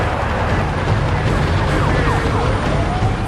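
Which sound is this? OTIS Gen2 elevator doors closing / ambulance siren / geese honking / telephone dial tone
ambulance siren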